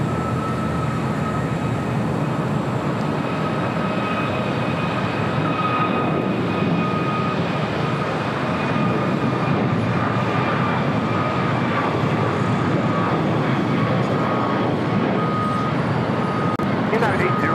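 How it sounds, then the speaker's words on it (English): A United Boeing 787-9 Dreamliner heavy, bound for Hong Kong, takes off from runway 25 right on the south side of LAX. Its engines make a sustained broad roar with a high tonal whine, and faint voice chatter sits underneath. "next heavy takeoff here on the south side is this flight heading to Hong Kong"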